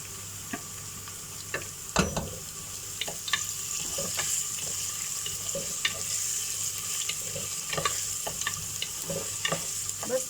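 Ginger and garlic sauté in a pan for mutton stew, with a steady soft sizzle broken by sharp clicks and taps from stirring.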